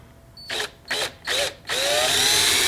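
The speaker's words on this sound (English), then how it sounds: "when you drill these taps into the slab here, they recommend you do a pilot hole first." Power drill boring a pilot hole into a walnut slab: three short whirring bursts, then a sustained loud run as the bit bites into the wood, close up.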